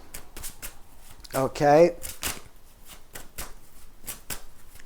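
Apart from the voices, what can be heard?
shuffling tarot cards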